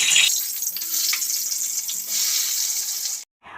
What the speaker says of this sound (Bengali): আলুগুলোকে আমি আগে ভেজে নিচ্ছি